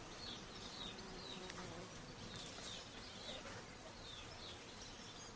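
Honey bees buzz in a steady, dense hum that carries through the whole stretch, with faint bird chirps scattered in the background.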